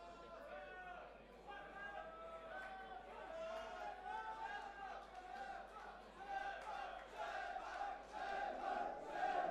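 A home crowd cheers boxer Shefat Isufi after his 2017 fight with David Zegarra. Many voices chant and roar in rising waves that grow louder toward the end, with a commentator talking underneath.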